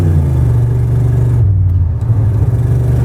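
A GMT400 pickup truck drives along the road, its engine a loud, steady drone with low rumble and tire hum throughout, and no one talking.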